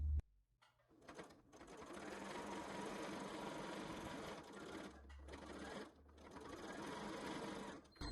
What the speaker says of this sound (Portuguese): Vamos lá, então, fazer essa costura bem em cima da marcação.